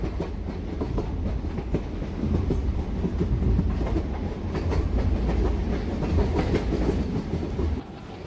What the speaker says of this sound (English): We can see that VAP 7 locomotive which is leading some express train which is crossing our train